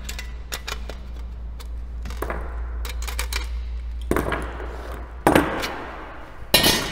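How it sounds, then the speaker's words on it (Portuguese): Cleco sheet metal fasteners being pulled from a car body panel in a body shop, a scattered run of sharp metallic clicks and snaps, with two louder clanks near the end over a low steady hum. "vou tirar os clecos, os prendedores, para poder"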